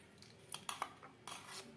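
A spoon stirs milk into patishapta pitha batter in a bowl, giving a few faint, quick metallic clinks and scrapes against the dish.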